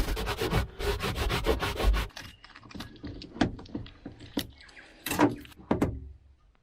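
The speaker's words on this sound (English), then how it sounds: "Give it a bit of a sand just to key it in there." Hand sanding on the hull of a salvaged sunken boat to key the surface: a quick run of rapid, close rubbing strokes, then scattered rubs and light knocks with pauses between.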